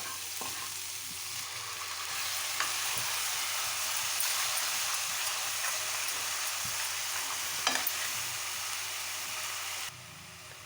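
A paste of onion, tomato and green chilli sizzles steadily in a pan for a chicken fry curry, a continuous broadband hiss with occasional stirring scrapes, close and fairly loud throughout, easing off near the end.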